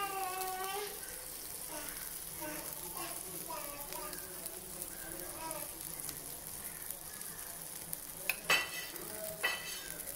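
Ghee sizzling in a paniyaram pan on a gas stove, a steady hiss of frying fat throughout, with a voice speaking over it and a couple of sharp clinks near the end.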